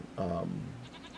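A single short goat bleat sounds in a farming video game, moderately loud and close, followed by a faint higher cry.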